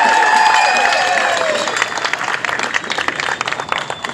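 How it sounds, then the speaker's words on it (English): Rally crowd at a San Diego protest against lockdowns applauds and cheers for a county supervisor, a loud dense wash of clapping that thins and fades toward the end, with voices mixed in. "Give him a round of applause."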